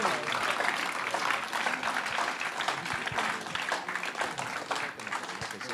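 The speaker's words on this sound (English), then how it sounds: "should we do some raucous clapping just to create a point?" A studio audience at a Dragons' Den-style pitch event breaks into raucous, sustained clapping, a dense wash of many hands that stays loud and steady throughout.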